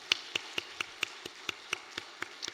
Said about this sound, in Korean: 우리 감사와 격려 박수하겠습니다